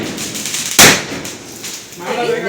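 A single Diwali firecracker bursts at a family celebration: one sharp, loud bang near the start, followed by crackling noise and background voices talking.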